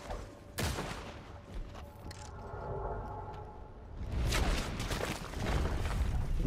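Bursts of gunfire in a first-person shooter match, a sharp volley near the start and heavier rapid fusillades toward the end, moderately loud against game ambience.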